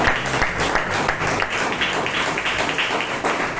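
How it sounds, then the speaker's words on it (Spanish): A church congregation claps loudly and close by, with distinct rhythmic hand strikes within a dense applause. "Denle un aplauso al Señor, hermano."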